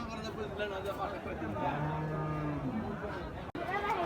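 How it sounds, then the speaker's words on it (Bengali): Cattle at a busy pre-Eid cow market in Fatullah, with a sustained low moo rising out of steady crowd chatter and people talking nearby. "মিডিয়াম সাইজের, ছোট সাইজের গরু আছে এখানে।"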